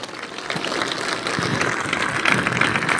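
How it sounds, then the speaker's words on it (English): Crowd at a Republican fall festival in Elkhorn, Wisconsin, applauding for veterans and service members: steady, dense clapping like rain, holding and swelling slightly across the few seconds. "Let's give them all an appropriate applause"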